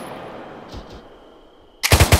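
Automatic gunfire in the tactical shooter ARMA 3, a tight burst of three loud, sharp shots near the end after a stretch of quiet background ambience and a couple of faint thumps.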